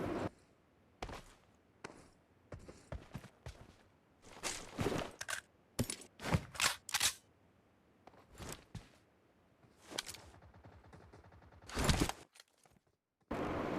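Rapid bursts of gunfire in a PUBG match, sharp broadband shots with brief silent gaps between volleys, some close and loud, others softer and farther off.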